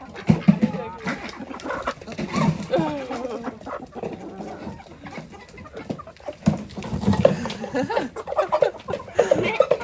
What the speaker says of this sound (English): I think the chickens jumped in to get the crumbs